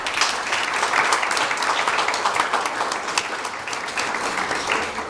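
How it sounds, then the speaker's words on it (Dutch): Loud, dense applause from the crowd at a champions' celebration, continuous clapping close and full throughout without pause. "En een applaus voor onze Pol."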